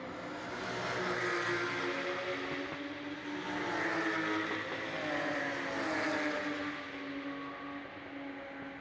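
Touring cars of the Baltic Touring Car Championship at the DeWALT Grand Prix 2023 roar through the elbow turn, several engines overlapping with rising and falling revs and shifting pitch as the pack passes, loud and continuous without a break.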